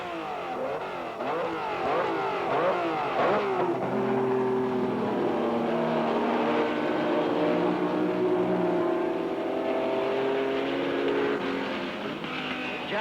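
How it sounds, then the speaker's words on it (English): Brabham Repco Formula One car roaring through the final laps of the 1967 Canadian Grand Prix at Mosport, a steady loud engine drone with rising and falling pitch as it climbs through gears, sustained throughout. "the all-powerful Jack Brabham, whose roaring first-place Brabham Repco is undulating like a merry surfboard around the final laps of Canada's first World Championship Grand Prix motor race"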